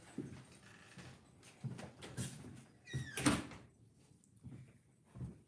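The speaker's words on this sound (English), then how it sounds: "My door just flew open." A door flying open during a storm, heard as a couple of faint knocks and a short creaking squeal in an otherwise quiet room.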